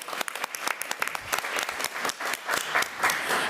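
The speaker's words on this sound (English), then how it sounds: "So let's give Ava a round of applause." A small crowd at a school board meeting gives a round of applause, with brisk, fairly close individual claps blending into a steady patter throughout.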